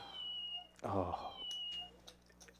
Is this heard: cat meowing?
yes